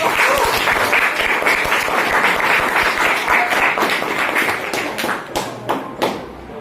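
Audience in a teacher training classroom session applauding loudly, a dense sustained wash of clapping that thins into a few scattered claps at the end.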